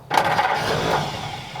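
A 1939 Ford convertible engine, abandoned for years, cranks and tries to catch, a close, steady churning grind with no voices.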